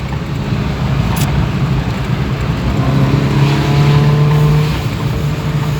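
A 1980 Ford Fiesta Mk1 engine drones steadily and loudly while driving, with its pitch climbing and swelling slightly midway before settling back, no voices present.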